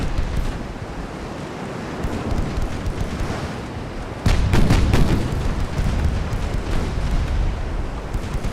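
Naval guns fire in a warship video game battle set in the dreadnought era: a heavy, rumbling boom hits midway and lifts the level of a dense, continuous roar of sea and battle noise, with no speech.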